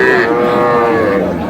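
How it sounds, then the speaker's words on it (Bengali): A young bull calf at a Jamalpur cattle market gives one loud, sustained moo lasting over a second, close by and filling the sound alone. "ষাঁড় বাচ্চা এ কত বলছেন কত?"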